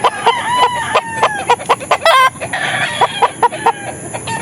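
Busy, loud clucking and squawking from several gamefowl close by at a game farm, short repeated calls coming in quick succession with a brief rattling burst midway.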